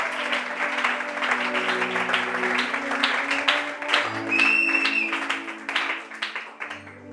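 A church congregation applauding during a French-language sermon, steady loud clapping that carries on for several seconds over sustained organ or keyboard chords, with occasional voices within the crowd.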